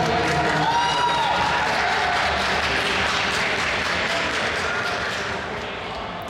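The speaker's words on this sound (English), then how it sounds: "The crowd was cheering, the casters were amazed." A tournament crowd at an Osu! match roars and cheers steadily, a dense wall of cheering and applause that holds loud throughout and eases slightly near the end.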